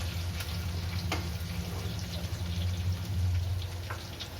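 Panch phoron and slit green chilies frying in hot oil, a steady hissing sizzle with occasional soft pops and a low constant hum underneath.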